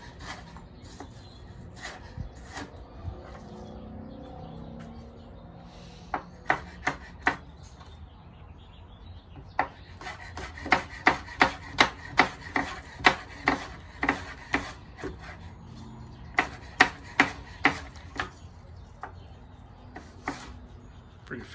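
Kitchen knife julienning daikon radish on a cutting board for Korean kimchee, giving bursts of quick, crisp taps with a steady chopping rhythm, close by, with quieter pauses between runs.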